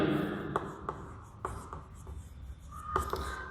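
Chalk or marker strokes on a board during a Class 10 maths lesson on lines intersecting at a point, with a run of quick, close scratchy writing taps.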